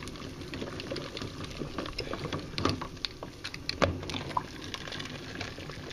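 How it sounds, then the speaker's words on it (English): Water boiling in a pot used to sterilize canning jars for pickling cucumbers, a soft steady bubbling with scattered clinks and knocks of glass jars, close and fairly quiet, with no talking. "The steam will burn you faster than this boiling water will"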